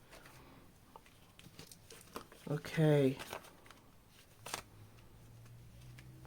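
A deck of tarot cards gets a final riffle shuffle, a brief crisp burst of flicking and fluttering up close, quiet indoors, with a soft spoken word from a woman just before.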